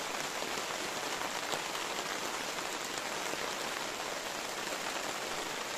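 Steady, dense rain at a reservoir in Paraibuna, Brazil, hisses evenly throughout, a constant wash of drops with no wind, no thunder, no letup and no voices.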